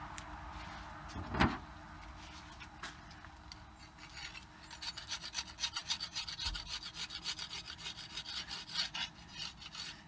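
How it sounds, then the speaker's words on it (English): Pine pitch being scraped off an axe head, a close rasping scrape that runs as a rapid, uneven series of strokes through the second half after one sharp knock. "So I'm going to have to scrape that off."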